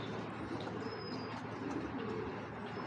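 A pair of beauty pigeons coo softly, their low murmuring calls steady and close over faint background noise, with a few chirps mixed in.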